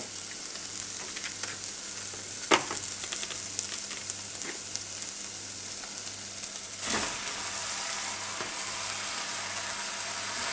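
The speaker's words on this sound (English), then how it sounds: "we'll just break up the mince and brown it" Ground beef mince browning for chilli con carne in a pan over softened vegetables, a steady close sizzle with a couple of scraping knocks as it is broken up.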